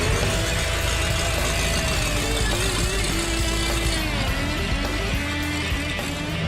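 An old Datsun car, rebuilt with a new transmission, rear end and clutch, runs with a loud, steady engine drone that holds without a break throughout, with no talking over it.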